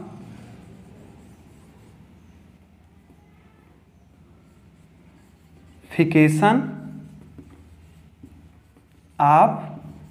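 A marker or pen writes on a board during a lesson about the emulsification of fat, giving two short scratchy squeaking strokes against a quiet room background, a teacher's voice speaking around them.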